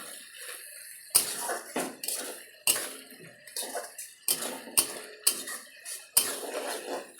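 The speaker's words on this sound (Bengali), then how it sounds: "মশলাটা ভালো করে কষাচ্ছি" A spoon or spatula scrapes and knocks against a pan as spice masala is stir-fried in oil for chicken curry, making sharp, close metallic strokes at an uneven rhythm with sizzling between them.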